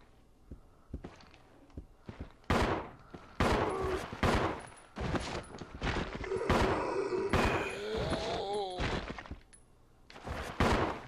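Gunshots and heavy thuds during a zombie fight in Resident Evil 0 Remastered, loud and irregular, mixed with footsteps, impacts and creature sounds, and a voice briefly under the action.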